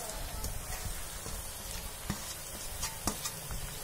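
Chicken pieces frying in a pan with sautéed onions and chillies, a soft continuous sizzle broken by scattered clicks and knocks of stirring.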